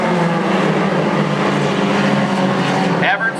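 Hornet class race cars roar around a speedway in a steady, loud engine drone that fills the whole stretch, with a race announcer talking over the noise.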